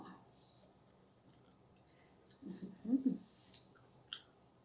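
Fresh dates picked straight from the tree being chewed, with a few soft, close, moist bites and squishes clustered near the end of an otherwise quiet stretch.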